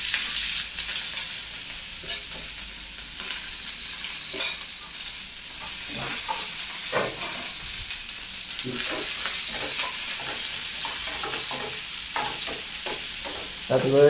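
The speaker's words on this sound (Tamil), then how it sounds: "கடுகு போட்ட பிறகு கொஞ்சம் வெங்காயத்தை தட்டுவோம்." Onions sizzle and crackle steadily in hot oil with mustard seeds, with a spoon scraping and stirring the pan now and then, close and fairly loud, no talking.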